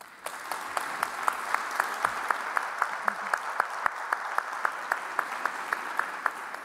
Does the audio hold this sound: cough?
no